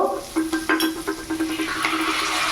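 Onions and capsicum shallow fried in a pan, stirred with a utensil that scrapes and clinks against the metal in quick irregular strokes over a steady close sizzle.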